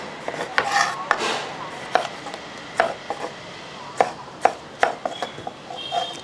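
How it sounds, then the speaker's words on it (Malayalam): A knife chops tomatoes into small pieces for a tomato chammanthi, sharp irregular taps on a cutting board with short pauses between strokes, close and clear with no talking. "ഇതുപോലെ ചെറുതായിട്ട് കഷ്ണങ്ങളായിട്ട് അങ്ങോട്ട് അരിഞ്ഞെടുക്കുക"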